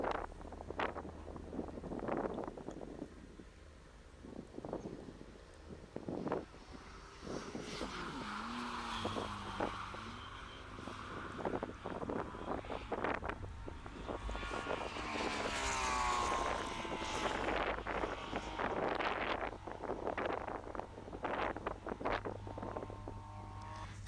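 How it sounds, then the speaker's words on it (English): A car laps a race track, its engine pitch rising and falling through gear changes beneath heavy, buffeting wind noise, the whole recording fairly quiet and rough. "I've turned it down heaps because the wind noise is just terrible"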